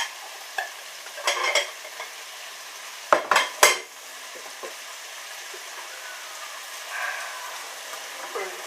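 Bacon and chorizo fry in a pan with a soft, steady sizzle, broken by a few sharp clatters of utensils stirring against the pan, all fairly quiet and close.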